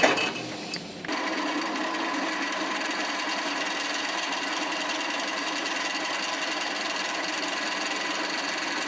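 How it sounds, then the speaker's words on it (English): A power drill whirs steadily at a constant pitch for several seconds, enlarging a hole in a metal flange on a go-kart, after a brief clatter of handling at the start. "now we're getting a drill bit that we like to hog out the flange a little bit"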